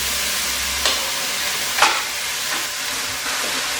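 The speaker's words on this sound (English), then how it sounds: "I saute it for 4 to 5 minutes time and then add in water." Chopped onion, cumin seeds and ginger-garlic paste sauté in hot oil for cauliflower palya, giving a steady, loud sizzle with a few sharp stirring scrapes against the pan.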